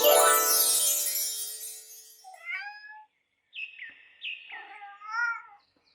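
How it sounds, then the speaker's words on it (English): A cat meows several times in clear, drawn-out calls, close and loud, separated by short silences after a brief opening burst of noise. "Cat."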